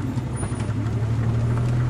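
A 2015 or 1995 Jeep Wrangler idles low and steady in four-wheel-drive low while crawling downhill off-road, a loud, continuous close engine drone with an even rumble and no speech.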